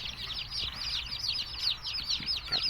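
Newly hatched chicks with grey and yellow down, taken out of an incubator, peep in a steady, busy chorus of high cheeps that continues close by for the whole stretch, with no talking.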